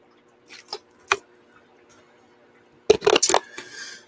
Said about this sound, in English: Take a sip of water.